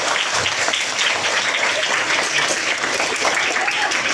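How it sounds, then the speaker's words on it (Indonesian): Dense applause from a school audience of teachers and elementary pupils at SDN 149 during a police school-visit event, a steady close clapping wash that fills the whole stretch. "Tepuk tangan dulu, mohon maaf."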